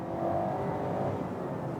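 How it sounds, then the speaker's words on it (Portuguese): A Citroën C3 Feel 1.0 engine revs up, its steady mid-pitched drone filling the cabin from inside the car, with a continuous whirring tone and no voices. "o barulho do motor, quando sobe o giro, ele invade aqui o interior com um pouco mais de facilidade"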